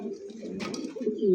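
Domestic fancy pigeons at a breeder's loft, including white long-feathered-foot birds, coo in low throaty rolls that run continuously and swell louder toward the end, close by with no talk over them.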